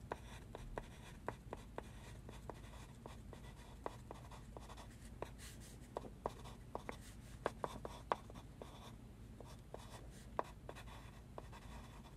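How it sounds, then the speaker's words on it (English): A pen writes a doctor's note in a quiet room, giving close, soft scratching strokes with light taps and pauses, steady and unhurried, with no talking. "I'll just write that up right now."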